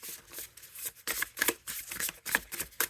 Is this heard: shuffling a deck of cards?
yes